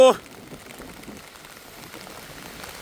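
Heavy rain pours down on a flooded backyard, a dense, even hiss of drops drumming on surfaces throughout, right after a brief voice at the very start.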